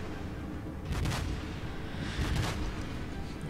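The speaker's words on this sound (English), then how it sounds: "hit him with a full broadside, hopefully" A battleship fires full broadside salvos in the naval game World of Warships, two heavy booming volleys a second or so apart, loud and close, with rumbling tails over a steady low background.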